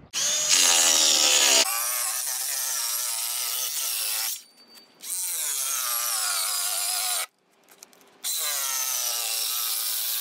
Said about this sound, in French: découpage de la planche de la télé.